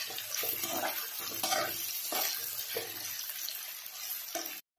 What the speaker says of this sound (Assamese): আদা আৰু নহৰুখিনি কেঁচা গোন্ধটো যোৱালৈকে ভাজি লৈছোঁ